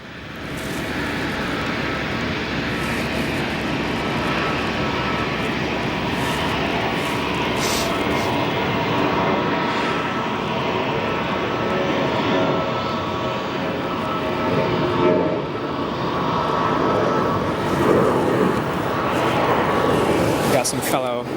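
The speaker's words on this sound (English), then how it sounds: "We've got a departure up on the north side of the airport." At O'Hare Airport an airplane departs from the north side, its engines a broad, loud roar that swells and holds across the whole stretch, with people talking over it.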